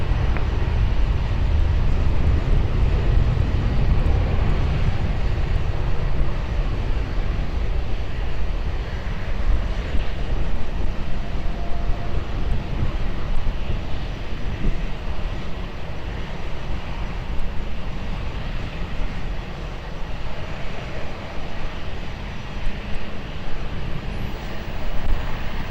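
An airplane at Lisbon Airport, cleared for takeoff, roars loud and steady with a broad engine rumble that holds for the whole stretch, heard from a fixed spot with no voices over it.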